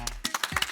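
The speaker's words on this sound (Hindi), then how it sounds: "तालियां।" A brief burst of several sharp, uneven claps from a small crowd responding to a politician's promises in a Hindi comedy scene.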